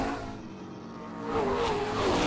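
Race cars circle the 3/8 mile oval at Springport Motor Speedway. Their engines roar close by and rise in pitch and loudness as they accelerate past.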